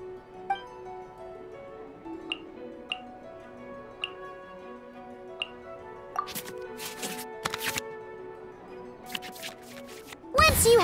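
Cards shuffling back into the draw pile in a digital card dueling game, sounded as sparse soft ticks at first, then a quick cluster of crisp card flicks and a louder swish at the end.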